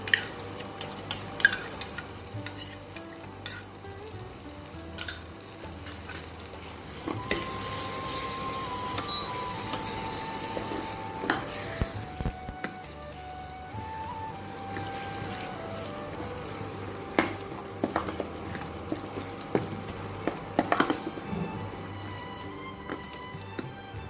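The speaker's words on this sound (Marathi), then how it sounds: "आता ह्याच्यामध्ये आपण राहिलेलं जे दही होतं शिल्लक राहिलेलं ते दही घालून परत पुन्हा एकदा भाजून घेऊया." Masala with curd being roasted and stirred in a pan for ghee roast chicken, a soft sizzle with scattered scraping strokes of the spoon, close and moderately quiet, with no talking.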